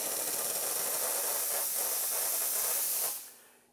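A VS4000C continuous flow steam machine sprays steam in a loud, steady hiss that holds for about three seconds, then cuts off abruptly and fades.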